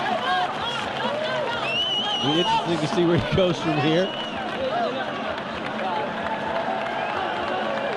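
A boxing crowd at a Sunday-morning fight cheers and claps as a background wash of noise, steady and diffuse throughout, beneath a commentator talking over it.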